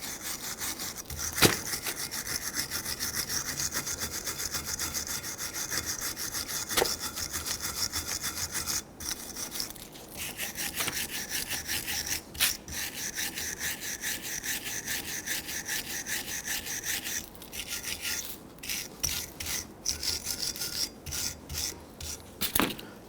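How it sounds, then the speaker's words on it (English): Steady, rhythmic rasping of a flat file scraping rust off a metal brake caliper bracket, back and forth, continuous and close, with brief pauses between strokes. "use a flat file to go ahead and shave that down and reform that block"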